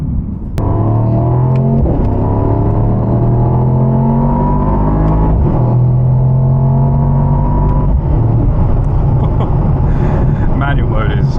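A Mercedes-AMG SL V8 in manual mode revs hard and rumbles loudly up close, with rising and falling engine tones and sharp downshift blips, while a voice talks over the engine.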